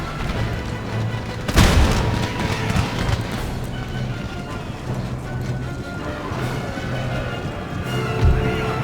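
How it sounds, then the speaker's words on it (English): Artillery fires round shot in an Empire: Total War battle with Spanish forces, loud booms punctuating a busy field of horse hooves and battle noise, a couple of sharp reports standing out. "Why is it firing round shot?"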